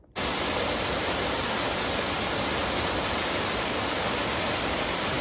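A small waterfall on Turnpike Creek in a winter mountain wilderness roars as a loud, close, unbroken rush of water, starting abruptly and holding steady with no talking.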